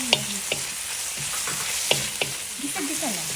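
Garlic sautés in a pan over medium heat, a steady close sizzle broken by several sharp scrapes and clinks of a utensil stirring.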